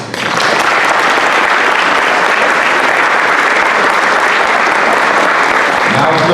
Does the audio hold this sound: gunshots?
no